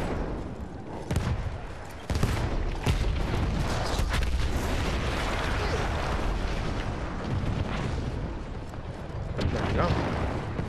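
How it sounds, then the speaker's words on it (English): A huge explosion in Battlefield 1, set in World War I, with a deep booming roar and crackling debris rumbling on for several seconds, loud and continuous, with fresh blasts and gunfire bursting through. "That explosion was one of the sweetest sights of the war."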